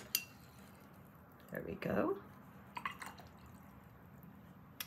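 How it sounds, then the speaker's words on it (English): Paintbrush swished and tapped in a water jar during a beginner watercolor wildflower painting session, giving a short burst of splashy rinsing with a few light clinks against the container, with a person speaking briefly nearby. "Let me rinse my brush here."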